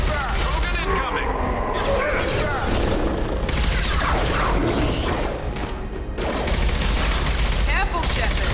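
Sustained gunfire rattles through a loud sci-fi battle in Mass Effect 2, with bursts of automatic fire, booms and impacts layered densely throughout while squadmates shout.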